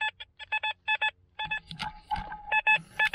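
A metal detector sweeping for Roman-era relics gives a strong signal reading 86 conductivity: a series of short, evenly spaced electronic beeps, interrupted midway by a rougher, noisier burst, then beeping again.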